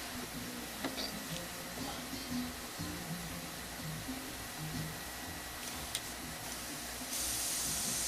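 An airbrush sprays thinned paint for a wet-on-wet flame design, giving a steady, fairly close hiss that runs the whole time and grows a bit louder and brighter near the end.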